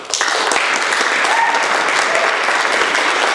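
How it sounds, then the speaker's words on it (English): Audience applause fills a hall during a political talk on health insurance, dense sustained clapping that starts abruptly and holds steady and loud throughout. "Should have held your applause."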